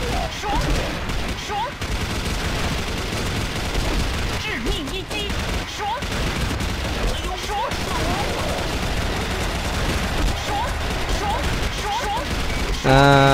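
A golden-black turbine machine gun, the MK5, fires in the shooting game Chiến Dịch Huyền Thoại: sustained rapid bursts, loud and dense throughout, layered with busy game effects.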